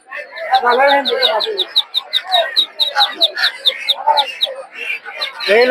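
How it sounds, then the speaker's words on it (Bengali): Ducklings and chickens at a busy poultry market, a dense stream of rapid high peeping and chirping with some clucking, close and loud, with voices mixed in. "এদিকে দেখতে পাচ্ছেন হাঁসের বাচ্চা"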